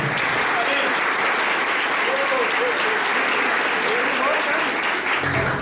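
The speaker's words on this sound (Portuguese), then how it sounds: "Meus parabéns, mais uma vez, um forte aplauso." Business-event audience applauding in Fortaleza, a dense, loud, continuous roar of many hands clapping that holds steady throughout, with crowd voices mixed in.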